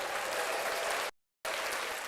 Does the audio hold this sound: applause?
yes